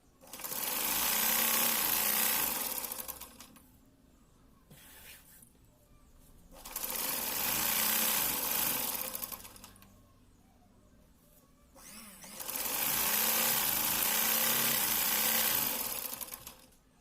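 A sewing machine stitches old saree fabric for a dress in three steady bursts of rapid whirring, separated by short pauses, close and clear with no talk.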